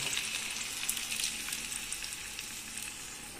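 Tomato sauce hitting hot olive oil in a pan gives a steady, dense sizzle and crackle that stays fairly loud throughout, with no talking.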